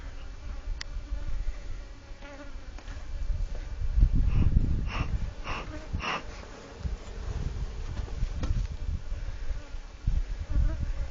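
Honey bees buzzing at an open hive that has been smoked, heard close with a continuous insect drone and occasional louder buzzing passes, along with soft handling noises.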